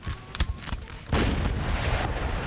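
Artillery booms in a Napoleonic battle game set at Albuera, a few scattered blasts early on, then a dense, continuous roar of distant cannon and musket fire that holds steady to the end.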